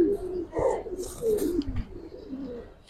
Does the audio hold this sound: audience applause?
no